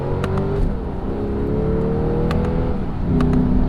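A Lexus RC F with carbon fiber paddle shifters driving under way, its engine droning loudly inside the cabin as revs climb and briefly dip at quick gear shifts, with faint clicks over the steady roar.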